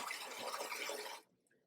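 Tap water runs in a steady, hissing stream in a demonstration setting, then cuts off abruptly when turned off, leaving near silence with faint residual drips.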